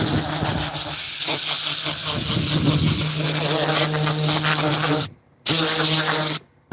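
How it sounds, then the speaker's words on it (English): Compressed air blasting through the small perforation holes of a leather car seat, a loud steady hissing spray with a low droning hum underneath, cutting out briefly twice near the end. "Grab your air compressor or your air tool and just blow it off."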